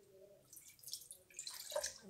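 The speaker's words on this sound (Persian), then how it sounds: "2 استکان آب میریزیم." Water is poured into a bowl in a kitchen, the first step of making a biscuit cake: a short, close trickle with light splashing and drips, rising and falling over about two seconds, with no talking.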